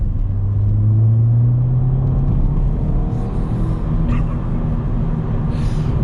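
Ford Fiesta ST hatchback accelerating hard in third gear, its engine drone steady and loud with a rising tone, heard from inside the car with no talk.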